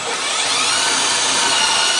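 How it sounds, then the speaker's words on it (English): A power drill bores a hole into a wooden box during a basic woodworking build, giving a loud, steady, unbroken whir close by with no talking. "So I'm going to drill in one."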